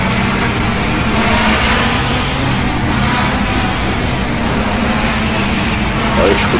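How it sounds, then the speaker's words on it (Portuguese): Toyota Celica Turbo driving in Córdoba, with steady loud road and engine noise from surrounding traffic filling the cabin, a continuous broadband roar without clear individual pass-bys. "escuta a barulhada dos carros"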